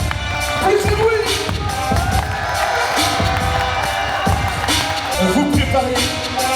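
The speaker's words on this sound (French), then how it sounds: "On va vous demander de les encourager très fort." Crowd at a jiu-jitsu gala roars and cheers for the fighters, a loud, restless mix of shouts, whoops and thumping noise with voices rising and falling throughout, an announcer's talk partly under the din.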